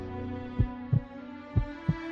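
A pounding heartbeat effect in a romantic TV drama scene, two double thumps, lub-dub, lub-dub, low and heavy over a soft sustained musical hum, with no talking.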